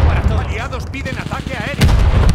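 A glide bomb detonates in Call of Duty: Vanguard multiplayer, a loud, heavy blast that rumbles on through the whole short burst, with excited voices shouting over it.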